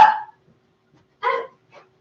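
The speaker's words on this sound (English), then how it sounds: "No one's telling you to bark" A small dog barks indoors, one sharp bark, then a short pause and another bark with a softer yip right after, close and clear with quiet between.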